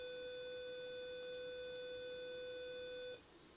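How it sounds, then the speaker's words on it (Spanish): A digital electronics lab alarm gives one steady, continuous electronic beep tone, loud and alone for about three seconds, then cuts off abruptly and leaves faint room hiss. "cuando está abierta la puerta, suena la alarma"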